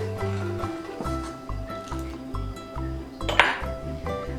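A metal spoon clinks steadily against a bowl while sugar is stirred into milk with cornstarch for a quick dessert, close and repeated in a rhythmic pattern, with one brighter clink near the end.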